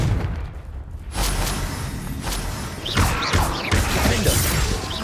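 Fire spell blasts cast in the Hogwarts Legacy video game, a series of crashing, booming bursts with bright crackling tails, loud and close, several impacts in quick succession.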